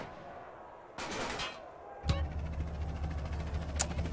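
Gunshots in Grand Theft Auto San Andreas: one sharp crack, then a steady low rumble of engine or ambient game noise, with a brief burst before it and a faint snap near the end.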